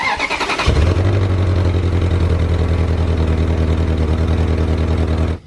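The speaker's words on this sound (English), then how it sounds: "Just start the engine all the way." A misfiring salvage Ferrari engine cranks briefly, catches, and settles into a steady, loud idle that runs on without a break.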